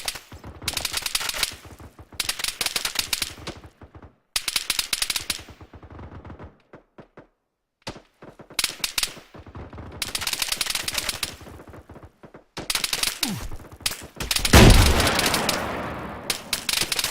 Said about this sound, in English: Reference red smoke on town, requesting suppressive fire.